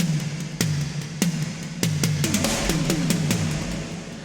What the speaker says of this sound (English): The toms sound like this.